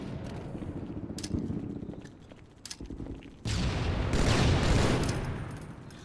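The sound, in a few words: grenade and gunfire in Halo 2 video game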